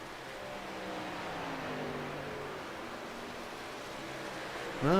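Racing truck engine left idling in the pit during a truck series race at Pocono. It is faint and distant, a low steady hum under broad background noise, and a voice starts up right at the end.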